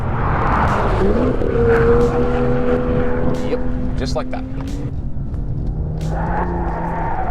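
A Mustang Shelby GT350 or BMW M2 sports car oversteers on a race track, its engine a loud sustained roar rising and falling in pitch while a voice speaks over it.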